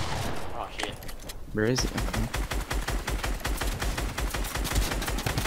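Rapid automatic gunfire from an arena trio match in Fortnite, a fast, evenly spaced burst of loud shots lasting several seconds, starting after a brief exclamation and a short question from a player.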